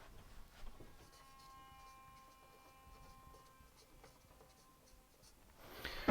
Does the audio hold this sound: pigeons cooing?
no